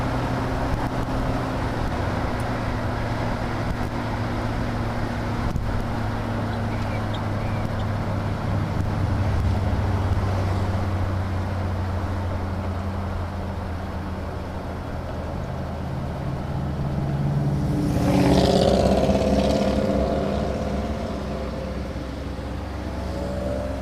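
Florida road traffic drones steadily around an open 1967 Monterey S-55 convertible on a test drive, a low continuous rumble of engines with one louder vehicle swelling past near the end.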